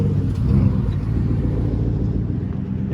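A 1987 Ford Bronco XLT truck engine running steadily up close, a loud continuous low rumble with a slight swell early on and no talking.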